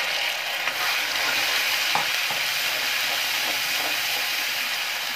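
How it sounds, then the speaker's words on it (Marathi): Peanut paste ball dropped into a pan with cumin and crushed garlic and stirred in, giving a steady close sizzle with faint scraping stir sounds throughout. "आता हा गोळा टाकणार आहोत आपण शेंगदाण्याचा।"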